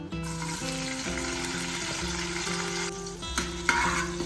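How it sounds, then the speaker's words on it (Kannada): Chillies, cloves, stone flower and bay leaf sizzle in hot oil for mutton pulao, a dense, continuous frying crackle with occasional stirring scrapes, under steady background music. "ಮೆಣಸಿನ್ಕಾಯಿ, ಮರಾಠಿ ಮೊಗ್ಗು, ಸ್ವಲ್ಪ ಕಲ್ಲು ಹೂವು, ಸ್ವಲ್ಪ ಪಲಾವ್ ಎಲೆ ಇಷ್ಟನ್ನು ಹಾಕಿ ನಾವು ಫ್ರೈ ಮಾಡ್ಕೊಳ್ಳೋಣ"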